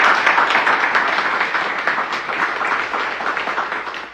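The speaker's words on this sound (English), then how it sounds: "give them a round of applause" Loud crowd applause at an announcement event for the NHRA Nationals drag racing at The Rock, dense clapping that starts strong and gradually tapers off.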